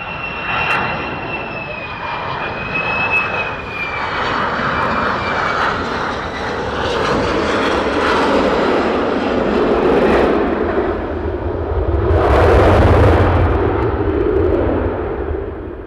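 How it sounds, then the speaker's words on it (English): F-15 fighter jets taxi and depart at RAF Lakenheath at night, a steady engine roar and whine in the distance that swells into a louder rushing surge near the end. "Now we have the F-15s taxiing down"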